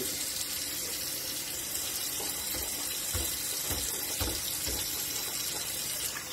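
Tap water runs steadily into a kitchen sink as fresh-cut chives are rinsed under the stream. The splashing rush stays close and even throughout, with no talking.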